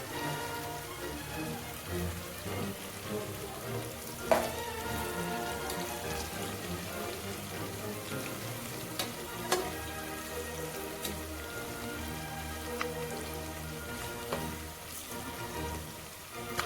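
Onions crisping in plenty of hot oil with a pinch of sugar for a pressure-cooker biryani, giving a steady, close, rain-like sizzle with occasional sharper pops and no talking.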